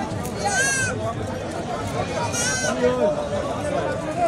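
Black Bengal goats bleat a few times at Dhelapir goat market in Saidpur, Nilphamari, heard close amid a steady crowd babble and nearby chatter.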